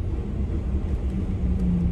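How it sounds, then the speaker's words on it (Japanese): A heavy, steady low rumbling roar from a new Fuso long-haul truck engine combusting while idling, continuous and close, with no voices. "相変わらずうるさいな、フソの燃焼は。 もう壊れるかなっていうぐらい音するもんな。"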